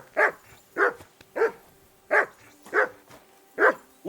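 A dog in the medieval-Bohemian video game Kingdom Come Deliverance II barks in a steady run of seven single, evenly spaced woofs, close and clear with quiet gaps between.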